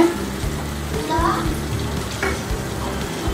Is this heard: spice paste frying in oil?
yes